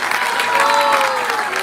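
Audience applause for the kartal, mridanga, violin, flute and keyboard players at a devotional gathering, a steady wash of clapping from a crowd with some voices mixed in.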